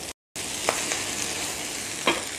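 Snow peas and preserved sausage stir-fry in a wok with a steady close sizzle, broken by a few brief scraping clatters of the spatula and one short gap of silence near the start.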